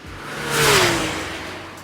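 An electric scooter passes close by, its whirring motor tone sliding downward as it whooshes past and fades away, with no talking.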